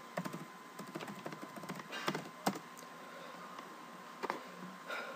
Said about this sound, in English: type in your login information